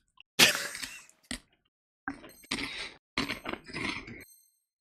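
Jalapeno cheese crisps crunched close to the mic in several bursts of crisp, brittle chewing and crackling, separated by short pauses.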